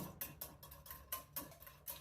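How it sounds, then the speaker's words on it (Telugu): Curd is being whisked in a bowl for ginger curd chutney, giving soft, irregular scraping and clinking strokes of a utensil against the bowl, faint and close, with no talking. "ఒక కప్పు పెరుగు తీసుకుంటున్నాను దీన్ని బాగా కలుపుకుందాం"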